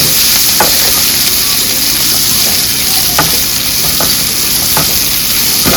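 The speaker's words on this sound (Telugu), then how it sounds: "కొంచెం త్వరగా వేగే వరకు ఫ్రై చేసుకుందాం" Sliced bitter gourd and large onions fry on a high flame, with a loud, continuous close sizzle broken by several sharp spatula scrapes against the pan at irregular intervals.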